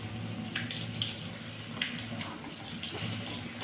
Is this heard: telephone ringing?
no